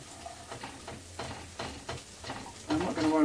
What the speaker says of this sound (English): just frying the onion off